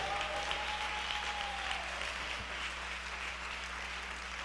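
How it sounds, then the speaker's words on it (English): Church congregation clapping hands in praise during a sermon, a steady wash of applause heard from some distance, fairly faint and continuous. "Clap your hands and give God some praise."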